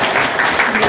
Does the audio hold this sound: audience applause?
yes